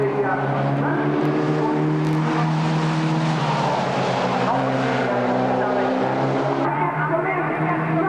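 Formula First single-seater race cars at Silverstone, engines droning steadily and loudly as cars battle at the tail of the field, sustained buzzing pitch with a commentator talking over the racing.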